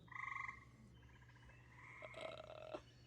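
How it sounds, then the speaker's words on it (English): Several frogs croak in a peaceful outdoor spot, opening with a short pulsing trill followed by overlapping softer calls and a high steady tone near the end, all quiet over a constant low hum. "I can hear the frogs."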